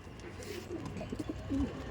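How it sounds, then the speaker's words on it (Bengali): Andhra pigeons kept in a loft coo softly in a short, low burst that rises a little near the end, close by against a quiet room background. "আপনার সামনে তুলে ধরছিলাম আন্ধ্রা পিজন্স"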